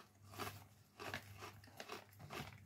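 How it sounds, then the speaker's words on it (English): Crisp, crunchy bites into garlic-flavored dragon potato snack chips, several sharp crunches in an irregular rhythm, close and fairly quiet, with no talking. "They're suitably crunchy and have a nice bit of flavor to them."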